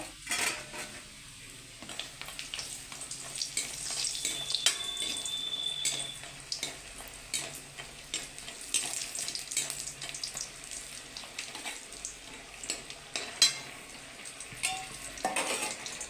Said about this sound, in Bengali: প্রথমে আমি বড়িটাকে ভেজে তুলে রাখবো